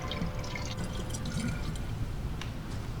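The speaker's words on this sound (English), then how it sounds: "he pumps water into an old water bottle" A hand water pump fills an old water bottle in the video game DayZ, a steady gurgling, trickling stream with a few drips heard close and alone, with no talk.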